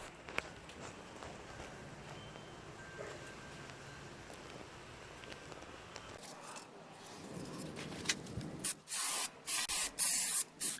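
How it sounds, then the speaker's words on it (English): Brake cleaner sprays onto the rear brake rotor of a Chevy Avalanche in a few loud, close hissing bursts near the end, after a stretch of quiet workshop background. "now we can clean off the surface with brake cleaner"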